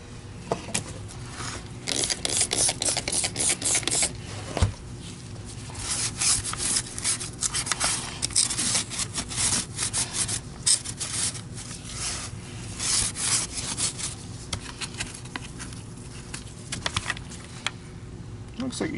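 Dirt being scraped out of a part from a Filter Queen Majestic M360 vacuum, a quiet, irregular rasping and rubbing that continues throughout, with occasional sharper scratches and a voice heard at times.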